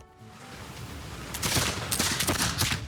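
Pike and shot musket fire in Civilization VI, a volley of crackling gunshot bursts that builds after a quiet start into dense, overlapping shots of steady loudness.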